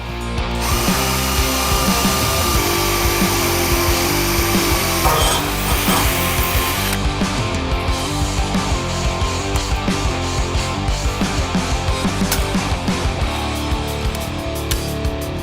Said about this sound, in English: I'm running a small pilot drill bit first, then I'll take it all apart and drill my 7/16 hole